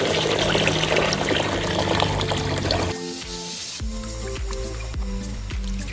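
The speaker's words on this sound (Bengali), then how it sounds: "চাল ভালো করে ধুয়ে নিচ্ছি" Rice is washed by hand in water in a pot, giving a steady wet squishing and sloshing that runs throughout, with faint tonal sounds in the background during the second half.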